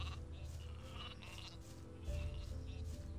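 Sheep bleating in the medieval fantasy game Gothic II, a few soft calls over a quiet outdoor ambience, with a low hum growing louder toward the end.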